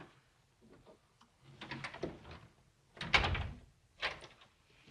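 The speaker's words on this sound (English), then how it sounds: "I locked the doors because the servants mustn't know." Indoor doors in an old house handled in a few separate bursts, with clattering, thumping knocks and a louder bang near the middle, moderately close and with no talk over them.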